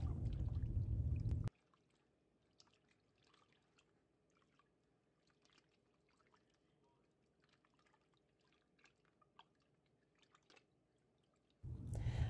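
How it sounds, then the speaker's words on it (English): Soft wet squishing and dripping, small irregular splashes as flour dough is kneaded and squeezed in cold water, quiet and close, with louder bursts at the start and end. "Add some cold water to your container and stretch, fold, and squeeze dough until it releases starch."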